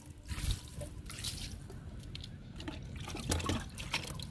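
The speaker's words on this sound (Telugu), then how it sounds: "ఈరోజు అన్ని మొక్కలకి ఇస్తున్నానండి లిక్విడ్ని" Liquid fertilizer poured from a container onto garden plants such as daisies, a close, soft trickling and dripping that runs steadily with a few brief splashy surges, no voices.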